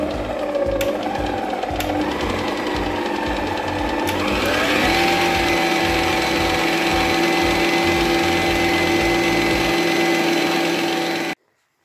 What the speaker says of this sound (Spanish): vamos a empezar a batir esta preparación